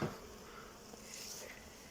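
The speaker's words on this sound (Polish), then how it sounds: "Tak jak widać na ściance ula" A soft, steady bee buzz hums throughout from a hive, faint and continuous, like many bees droning close by.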